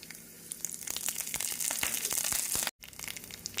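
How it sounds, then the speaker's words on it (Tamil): Mustard seeds, urad dal, dried chillies, curry leaves and a little onion crackle in hot oil for a coconut chutney tempering: dense, continuous spattering pops and crinkles, fairly close, with one brief dropout near the end. "நாம் கடுகு உளுந்து பொரியவும் சிறிதளவு வெங்காயம் போட்டுக்கொள்ளலாம்"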